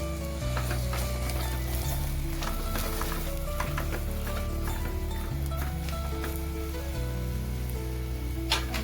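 Red chili and coriander powder frying in hot oil for matar paneer, a steady close sizzle with crackling spatters and occasional stirring scrapes, continuous throughout with no talking.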